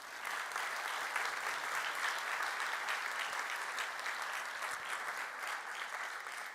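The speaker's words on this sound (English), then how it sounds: "Let's give them a round of applause." Steady applause from a crowd at an innovation award closing ceremony, sustained and even throughout with no voices standing out.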